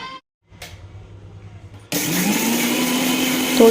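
An electric mixer grinder starts up and whirs loudly, grinding mustard, green chilli, garlic, salt and turmeric into paste after a brief quiet lead-in with faint clatter.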